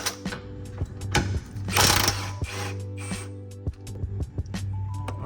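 A ratchet clicks in quick repeated bursts as 18mm bolts on the lower control arm of a 2014 Ford Escape are loosened, close and distinct over a low steady hum, with brief pauses and one louder burst midway.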